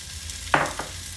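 Boiling water is poured into a pan of browned onions, making a quick, sharp hiss and sizzle that swells for a moment and then fades, with a faint second splash after it.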